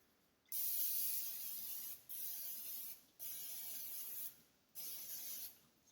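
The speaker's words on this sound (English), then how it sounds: "Everything I put in the air fryer, I try to spray it. So I'm just going to spray the basket." Four bursts of cooking oil spray hiss onto an air fryer basket in quick succession, each lasting about a second with short pauses between, close and fairly loud.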